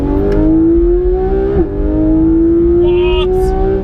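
A Porsche 991 GT3 RS engine winds up in one long, steady rev climb, loud and close, with a brief dip around a gear change before it keeps pulling higher.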